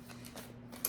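Tarot cards being shuffled by hand, a soft papery riffling and sliding that comes in faint repeated swishes with no voice over it.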